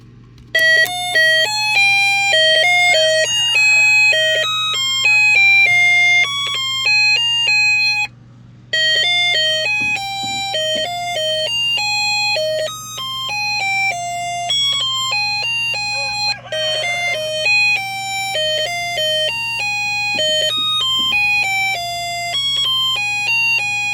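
Snap Circuits burglar alarm for an air-cooled window, triggered by a motion detector, plays a steady loop of bright electronic bell-like tones over a constant low hum, with brief dropouts.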